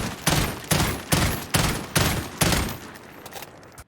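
FAMAS (FR556) assault rifle firing in Call of Duty: Modern Warfare, six spaced shots or short bursts in a steady rhythm, loud and close, each with a brief ringing tail, then fading out.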